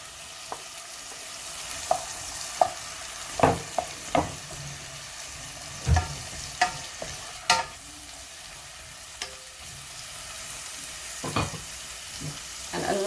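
A small onion goes into hot garlic paste in a pan and fries with a steady sizzle, punctuated by repeated scraping knocks of stirring.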